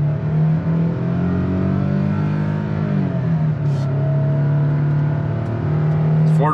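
A 2023 Nissan Frontier Pro-4X under full throttle while towing, its engine droning steadily and loudly with a rising, then settling tone as it pulls for several seconds, with no voices.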